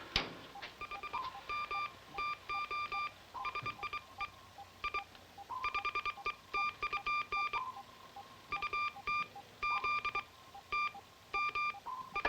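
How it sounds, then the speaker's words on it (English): CW radio code signal played over an amplifier, a faint series of rapid beeping tone bursts in irregular groups continuing throughout. "It's a CW signal that sounds like our code."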